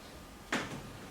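A single short bump of a door opening or closing sounds in a French theatrical audio drama, a brief soft thud set against a faint steady hiss.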